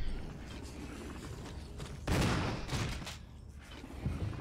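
Gunfire from a handgun in Resident Evil HD Remaster: a few sharp reports cluster together over quieter game ambience, with the loudest blast in the middle and more shots trailing after it.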